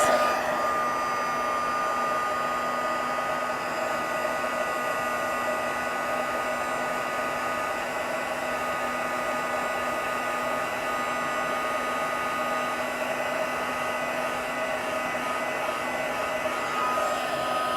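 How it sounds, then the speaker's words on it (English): An embossing heat tool runs continuously with a steady, even blowing whir like a hair dryer, close and unchanging from start to finish. "Grab our heat tool."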